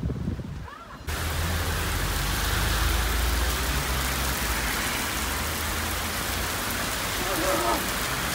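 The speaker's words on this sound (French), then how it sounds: "Et on sort et... il pleut." Steady heavy rain pours down close by, a dense continuous hiss with drops pattering on surfaces, starting abruptly after a brief quieter moment.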